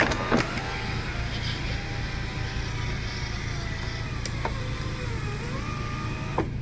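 Factory moonroof motor on a 1994 Lexus GS300 opening, a steady whirring electric drone running throughout with faint clicks near the start and a shift near the end, heard close with no talking.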